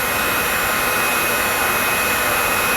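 Steady, loud blowing roar of a heat tool warming a golf club hosel to extract a broken shaft, continuous and unchanging throughout with no voices.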